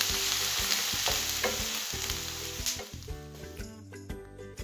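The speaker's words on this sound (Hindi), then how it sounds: "प्याज को हम सिर्फ 2 मिनट तक भूनेंगे" Onion and garlic frying in hot oil, a steady close sizzle with repeated stirring scrapes and clinks of a spoon against the pan, no voices.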